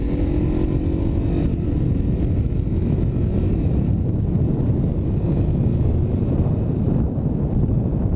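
Suzuki DRZ400 supermoto dirt bike being ridden, a steady loud engine drone buried under heavy wind buffeting on the microphone throughout.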